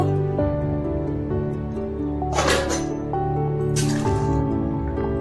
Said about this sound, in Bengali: সবজিটা কষানো হয়ে গেছে, এবার পরিমাণ মতো জল দিয়ে দেবো।